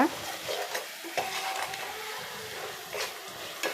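Onions fry in a pan, a moderate sizzle punctuated by repeated scraping stirs and occasional utensil taps against the pan, close and without speech.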